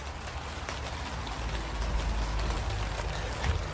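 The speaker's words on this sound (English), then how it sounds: "because the rain's come on" Steady rain falls on a garden summerhouse build site as a constant, even hiss of drops with no pauses and no voices.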